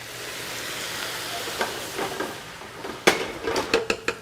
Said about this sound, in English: adding our white wine. We'll bring that to a boil